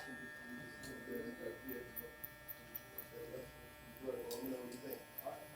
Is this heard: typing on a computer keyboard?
no